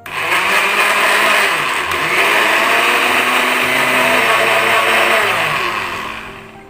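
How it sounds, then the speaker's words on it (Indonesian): A household blender runs continuously, mixing a 50-gram ingredient with 100 ml of distilled water for an orchid seed growing medium, a loud steady whir that holds for several seconds before winding down, with no voices. "Kita masukkan ke dalam blender."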